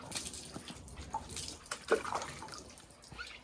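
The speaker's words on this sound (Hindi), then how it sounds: "गर्म पानी से नहला रही हूँ" Warm water splashing and dripping while a German Shepherd or Husky is bathed outdoors in sunshine, soft irregular pours and drips at moderate distance with no talking.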